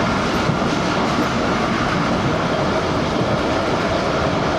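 The 12DN Hazara Express passenger train runs on the rails in hot weather, a loud, continuous rumble and clatter of wheels and carriages heard from on board, steady throughout without speech.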